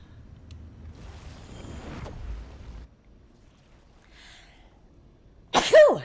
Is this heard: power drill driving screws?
no